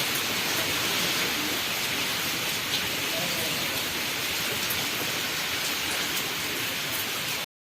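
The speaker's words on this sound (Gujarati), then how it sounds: "વરસાદ હવે બંધ થવાનું નામ નથી લેતું" Steady heavy rain from Cyclone Asna hisses continuously, close and dense, with no other sounds standing out before it cuts off abruptly.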